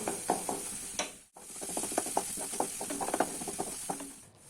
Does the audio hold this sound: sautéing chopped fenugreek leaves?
yes